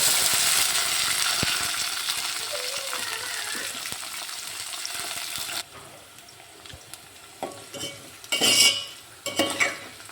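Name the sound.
frying onions and curry leaves in a pan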